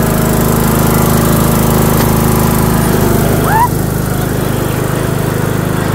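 A tractor engine runs steadily nearby, a continuous rough drone lasting the whole stretch, with a brief high chirp partway through.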